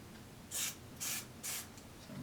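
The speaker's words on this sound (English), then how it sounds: "I'm spraying this right down" Three short bursts of aerosol spray hiss out in quick succession, evenly spaced, close and fairly loud, sprayed into a channel inside an Aiwa TPR-910 stereo cassette recorder boombox under repair.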